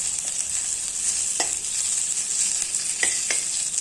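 Spices and onion fry in oil for a black masala, giving a loud, constant hiss and sizzle with a few sharp stirring clicks.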